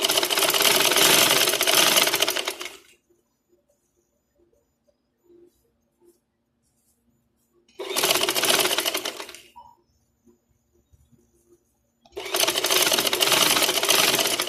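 Three bursts of a sewing machine stitching a garment neckline with short stitches, each run lasting a few seconds, separated by near silence with faint handling clicks.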